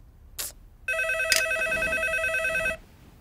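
A telephone rings once in a steady electronic tone lasting about two seconds, loud and close, after a couple of brief clicks, in a dark house during a power cut.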